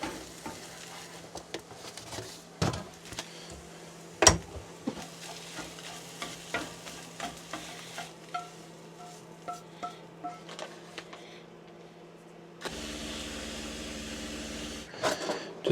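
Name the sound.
cooking and stirring scrambled eggs in a pan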